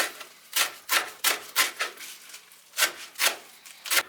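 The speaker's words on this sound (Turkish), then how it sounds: "yıkadığım ve topraklarından ayıkladığım maydanozum var. Bunu ince ince şöyle kesiyorum." A knife chops washed parsley finely on a cutting board, giving about a dozen crisp, separate strokes at an uneven rhythm, close by, with a short pause in the middle.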